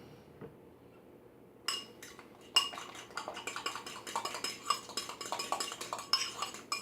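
A utensil beats a mixture into egg inside a coffee cup for a quick lasagna, giving rapid, steady clinks and scrapes against the cup after a quiet start. The sound is close, with no talk.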